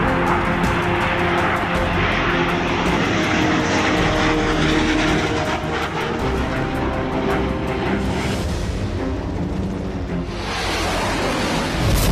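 Indian Air Force aircraft flying over the Line of Actual Control in Ladakh, a loud, steady engine roar that holds for the whole stretch, swelling and shifting slightly near the end as the plane passes, with no voices.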